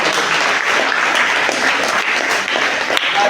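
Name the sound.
audience applause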